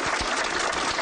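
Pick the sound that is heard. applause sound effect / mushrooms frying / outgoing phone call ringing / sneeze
applause sound effect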